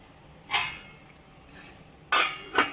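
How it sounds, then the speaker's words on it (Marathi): Metal lid set onto a pot of spicy sandge bhaji curry after the gas stove is switched off, heard as three short, bright clinks of metal against metal in a quiet kitchen. "गॅस बंद करून घेऊया आणि झाकण लावून घेऊया"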